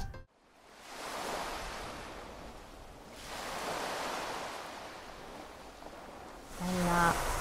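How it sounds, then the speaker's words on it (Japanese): Sea waves wash in and recede in slow surges, each swell rising and fading over a few seconds, soft and steady, with brief faint voices near the end. "海、はい、 ここで音を聞いてみたいと思いますか"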